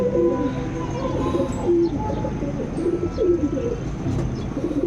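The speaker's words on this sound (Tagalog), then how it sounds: "Nabulabog mga kalapatids." Racing pigeons cooing in a loft, several soft overlapping coos under a busy background murmur, close and continuous.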